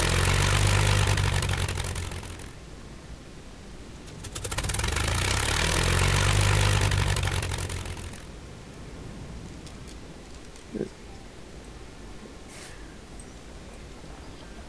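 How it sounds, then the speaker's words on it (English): A propeller plane engine runs in a Crimson Skies tabletop game session, a loud broadband roar that swells, drops away, surges again and then settles into a steadier, quieter drone with a brief knock near the end. "Get your engine started."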